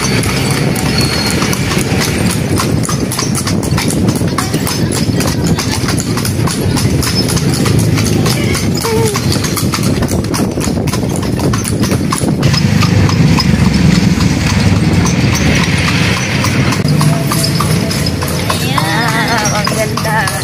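Horse hooves clip-clop steadily on a road in rural Abra province, a continuous rhythmic clatter heard up close while people chat over it.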